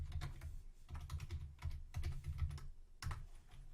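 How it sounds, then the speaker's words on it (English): Rapid irregular keystrokes on a computer keyboard clatter in bursts close to the microphone, with brief pauses between runs of typing and no talk. "My keyboard is being weird."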